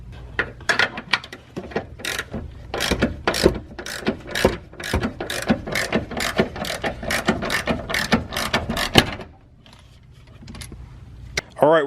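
A ratchet wrench clicks in rapid bursts as strut mount studs are pulled out and new ones run in on a Ford Focus during a rear strut bar install, with close, sharp pawl ticks, then a brief pause before more clicks.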